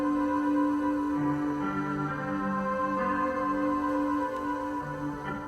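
Stock grand pianos from a music production software's sound collection ring out sustained chords, soft and mellow, with new chords entering every second or so.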